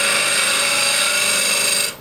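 A woodturning tool cuts into a spinning wooden vessel, giving a continuous loud scraping hiss that cuts off abruptly near the end.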